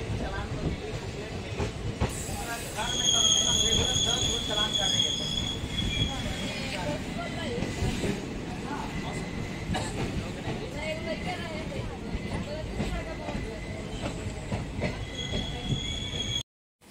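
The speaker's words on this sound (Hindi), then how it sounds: "ट्रेन अभी खुल चुकी है गढ़ानी स्टेशन से, अभी सीधा आरा जाने के बाद ही रुकेगी" Passenger train pulling out of Garhani station in Bihar, heard from on board as a continuous rumble of wheels on rails with high metallic squeals and clicks, loud and close, with voices in the background.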